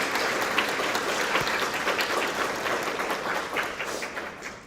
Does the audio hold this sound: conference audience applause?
yes